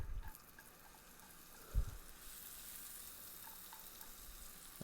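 Chopped onion frying in a splash of hot olive oil and butter in a pan, a faint steady sizzle with a brief louder crackle as the onion goes in.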